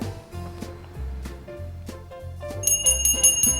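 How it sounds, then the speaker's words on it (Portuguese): A small bell chimes brightly a few times over a soft music background, marking the memory verse in a children's Bible lesson. "Olha o sininho do versículo de memória."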